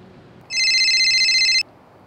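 A telephone rings loud and close in a single sustained electronic burst of about a second, with no talk over it, heard while a call is being placed.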